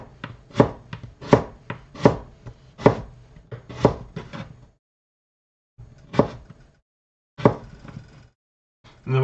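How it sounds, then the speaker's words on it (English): A knife cuts potatoes into fourths for French fries on a cutting board, about eight sharp, evenly spaced chops at close range, then a pause and two more separate cuts, with no talking. "you can cut them into fourths"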